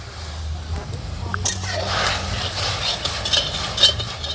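Sugar is tipped into a pan with a little water for caramelising and stirred, a near scraping and clinking of a utensil over a soft sizzle, building in the middle, with a voice talking briefly.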